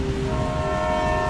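A train rolls past with its horn sounding, a steady loud rumble of wheels under the sustained tonal blast, close and continuous.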